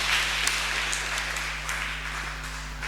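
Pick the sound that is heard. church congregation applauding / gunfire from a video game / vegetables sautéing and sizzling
church congregation applauding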